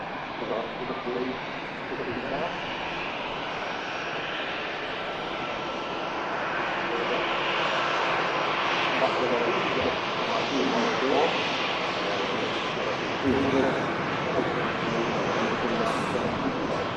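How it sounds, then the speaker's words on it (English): An EasyJet airliner inbound from Geneva roars steadily on approach to Manchester Airport, a broad continuous engine rumble with rising intensity in the later half, with talk running over it. "EasyJet next to arrive in from Geneva."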